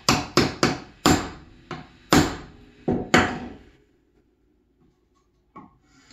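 A chisel is driven into wood to chop out a joint, giving about eight sharp, close knocks in an uneven rhythm before a pause and one fainter final tap.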